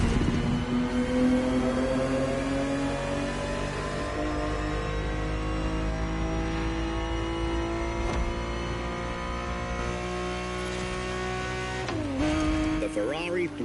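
In The Crew Motorfest racing game, the V12 of a 1970s Ferrari 365 GTB4 revs and climbs steadily through the gears, loud and close, with a brief lift and re-rev near the end under a speaking voice.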